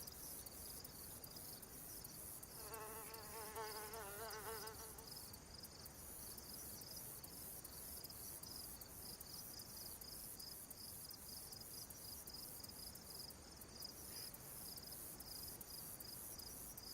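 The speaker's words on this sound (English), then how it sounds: "So calming with the sound of these cicadas and crickets." Cicadas and crickets in the DayZ game world, a steady high-pitched insect chorus that runs continuously, with a brief faint birdlike warble early on, calm and without voices.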